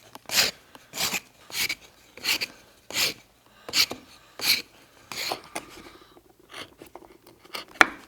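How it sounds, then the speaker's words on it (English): The fine side of a hand rasp files wood for a hand-carved cup and ball, giving about ten crisp rasping strokes in a steady back-and-forth rhythm, close and fairly quiet, with no talking. "I'm going to use the fine side of the rasp now"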